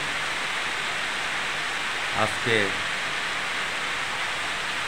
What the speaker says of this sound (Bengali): এখন প্রচুর বৃষ্টি পড়তেছে